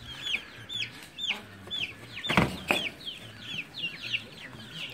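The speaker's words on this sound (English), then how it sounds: "Bantam hen. I hatched all these out from the incubator." Bantam Silkie chickens cluck in short, repeated soft calls nearby, with a couple of brief rustling thumps partway through.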